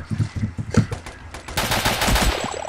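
AK rifle fire in the 2D shooter game Boring Man: a few separate punchy shots at the start, then a sustained rapid automatic burst of sharp, crackling reports that fills the second half.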